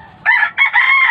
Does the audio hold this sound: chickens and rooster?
yes